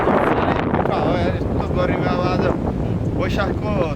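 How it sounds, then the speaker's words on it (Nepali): Strong cold wind blowing at an open hilltop viewpoint, a loud continuous rush buffeting the microphone throughout, with a voice speaking faintly beneath it. "यस्तो चिसो हावा चलेको थियो यहाँ।"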